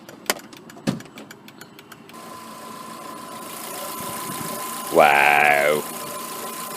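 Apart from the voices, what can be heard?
VW Polo GTI 1.6-litre 16-valve engine idling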